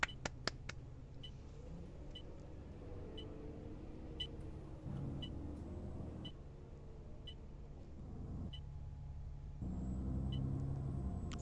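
A bus engine drones in a Roblox bus driving game, with a steady low rumble that shifts in pitch as the bus speeds up, plus sharp periodic ticks and clicks over the top. No one talks.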